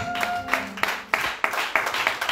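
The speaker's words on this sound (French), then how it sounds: "Est-ce que tu peux acclamer pour Jésus?" Congregation at a French-language evangelical church service claps and cheers for Jesus, with sharp, rhythmic hand claps in repeated bursts following a brief tonal sound at the start, close and moderately loud with no clear speech.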